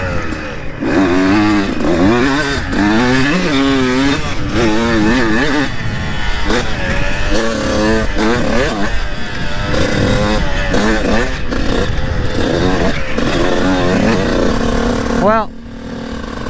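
A dirt bike engine revs on a trail, rising and falling in loud repeated pulls, with a voice talking over the motor for much of the stretch.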